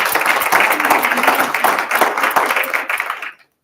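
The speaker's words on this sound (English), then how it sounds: "A warm round of applause for Dr. Karabo." A summit audience at a government social media event gives a warm round of applause, steady dense clapping that carries loudly for about three seconds, then quickly fades out.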